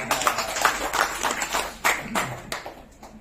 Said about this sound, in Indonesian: tepuk tangan dong buat semangat.